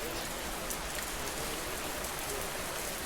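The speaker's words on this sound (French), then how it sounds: "je suis en train de baisser le son parce que l'audio de la pluie" Steady, dense rain from a video game fills the scene as a constant close hiss of drops with no pauses.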